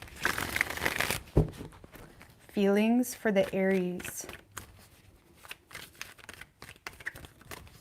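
Tarot cards are shuffled in quick crisp riffling bursts near the start and scattered through the rest, between spells of someone talking.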